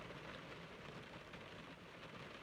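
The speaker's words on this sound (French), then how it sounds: "je vais faire quelques secondes de silence pour juste écouter la pluie" A continuous, dense hiss of rain falling outside fills the whole stretch at low level, steady and unbroken, with no voices.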